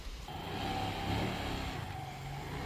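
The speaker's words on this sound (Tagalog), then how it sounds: "iti-test drive natin dito sa medyo off-road. Tingnan natin yung suspension niya" A Motor Star Easy Ride 175 adventure scooter ridden over rough off-road ground, its engine droning faintly at a steady mid pitch with slight throttle swells, heard from close by with no talk.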